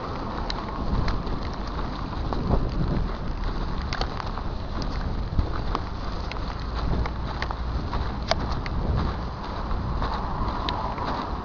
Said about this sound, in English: The thunderstorm's coming.